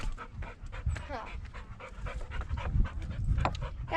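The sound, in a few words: dog panting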